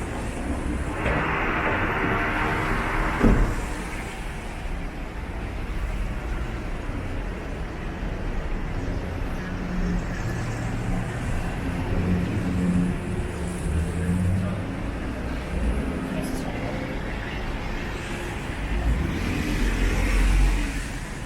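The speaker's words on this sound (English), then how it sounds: "there's so much traffic on Richmond Street" Steady street traffic on Richmond Street in downtown Toronto near the lunch hour, a continuous wash of passing cars and engines at moderate distance with no talk.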